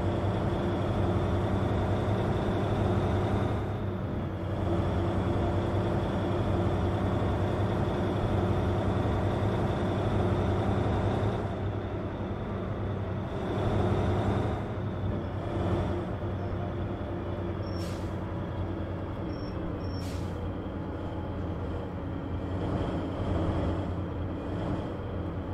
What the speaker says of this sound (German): Ja, fährt sich deutlich schwerer. Aber es ist auch ein LKW.